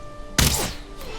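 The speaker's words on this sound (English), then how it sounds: "Let's see if we can shoot this boar." An arrow striking a boar in the Valheim video game, one sharp thunk with a short rustling tail, heard alone.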